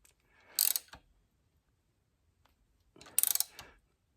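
A ratchet snugs down temporary bolts with 3/4 inch heads on a restored Champion camel back drill press, two close bursts of rapid clicking separated by a quiet pause.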